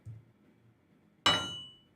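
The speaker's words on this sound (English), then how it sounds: "And then I got this metal hammer," A single metal hammer strike rings out in an orchestral hip hop percussion loop, a sharp bright clang with a ringing tail decaying over about three quarters of a second after a faint low thump.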